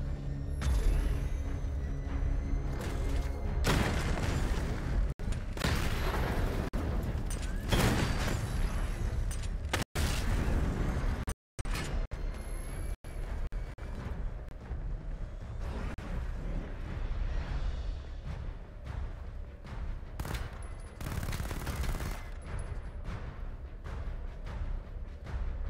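Batmobile weapons in Batman: Arkham Knight fire steadily, with dense booming explosions, whooshes and mechanical clatter packed tightly into a loud, continuous barrage with only a couple of momentary dropouts.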